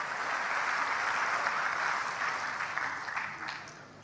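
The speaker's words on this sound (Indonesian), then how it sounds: "berikan tepuk tangan yang meriah buat Tuhan" A church congregation applauds steadily at a sermon, a dense and even wash of clapping that holds for several seconds and then thins out toward the end.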